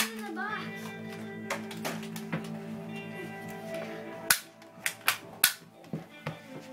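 Toy cap pistol firing several sharp, loud pops in quick succession during children's play, after an earlier stretch of kids talking over a steady background hum.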